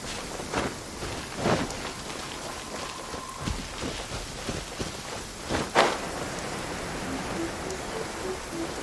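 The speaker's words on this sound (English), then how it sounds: "Rain. One way to wash off the grime." Steady rainfall in the Genshin Impact game world patters as a soft continuous hiss, with a few heavier splashes and thuds breaking through and a faint tone in the middle.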